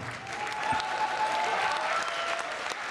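An audience applauds a double bass player at a music competition, sustained, even clapping that swells slightly mid-way and carries on throughout at moderate loudness.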